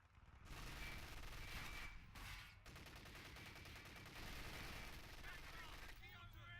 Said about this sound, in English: He's been engaged by this MG42.